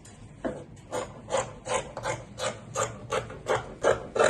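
Scissors cutting corset fabric along a marked pattern, a close series of about a dozen rhythmic rasping snips, evenly spaced and moderately loud.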